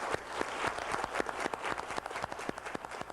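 Crowd applause for Sonia Graham at a public recognition, a short burst of dense hand clapping that sounds somewhat distant and muffled, with no talk over it.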